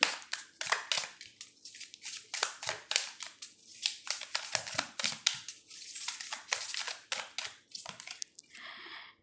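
Crisp, rapid papery shuffling and snapping of tarot cards being handled and drawn for a reading, a dense run of close-up flicks and rustles with short pauses between bursts.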